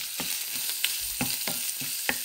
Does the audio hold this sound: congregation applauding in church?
no